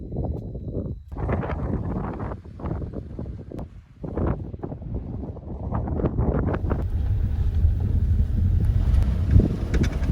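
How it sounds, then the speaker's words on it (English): Strong wind roars and buffets the microphone in heavy, uneven gusts at night in Joshua Tree National Park, rising louder toward the end. "It's super windy outside."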